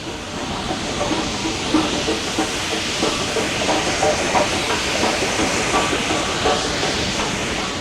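An LMS Black 5 steam locomotive, 44943, works steadily nearby hauling a stopping passenger train, a constant hiss and rumble with faint rhythmic chuffing and rail clatter throughout.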